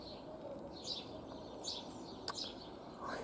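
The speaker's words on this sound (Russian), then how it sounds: "Послушайте, как поют птички." Small birds chirp and sing outdoors on a frosty early-spring morning with snowdrifts still lying around. Brief high calls repeat faintly and at a distance over a steady background hiss.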